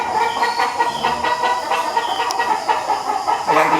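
An imported Sweater gamefowl rooster clucks in short, repeated bursts close by, set against a steady background hum and rattle.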